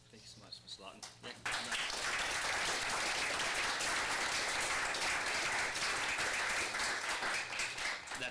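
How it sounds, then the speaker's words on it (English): Sustained applause from an audience at a city council meeting, breaking out loud and full after a short stretch of quieter room sound and holding steady to the end. "That's our premature applause for you right there"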